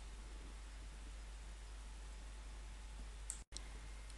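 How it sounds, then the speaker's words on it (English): A single computer mouse click on a Microsoft Dynamics CRM 2011 dialer screen lands near the end, a short sharp tick over a steady low hum and soft hiss, followed by a brief drop to silence. "Click on the X to detach."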